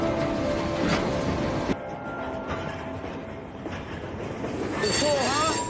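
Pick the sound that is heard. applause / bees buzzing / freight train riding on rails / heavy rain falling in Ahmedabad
freight train riding on rails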